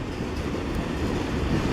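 Amtrak train rolling past close by, a loud, continuous rumble of wheels and cars on the rails with no pauses, steady across the whole short stretch.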